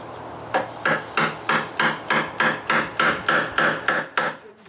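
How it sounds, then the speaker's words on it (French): Metal rods are driven into the ground like nails between patio tiles, a bolt screwed onto the end of each to take the blows, with about a dozen evenly spaced, sharp, ringing hammer strikes at close range. "je plante les tiges comme des clous dans le sol entre mes tuiles"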